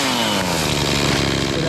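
Chainsaw cutting through the top of a dead oak tree, the engine roaring loud and continuous at high revs with a slight downward pitch shift as the bar loads up in the wood.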